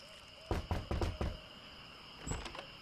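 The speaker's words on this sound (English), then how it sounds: "I think I'll knock." Knocking on a door in The Secret of Monkey Island, a quick series of four close wooden raps followed by a fainter double knock, over a quiet ambient hum.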